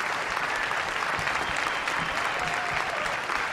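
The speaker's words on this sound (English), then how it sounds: "Big round of applause for these guys." Steady applause from an audience at a film festival awards show, a dense continuous patter of many hands clapping at moderate loudness for a few seconds, with no voices over it.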